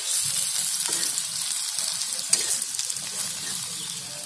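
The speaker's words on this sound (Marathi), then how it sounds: "आता एकदम मस्त फ्राय झालेली आहे." Okra masala fries in a pan, giving a dense, even sizzle with soft stirring scrapes, close and steady and with no talk.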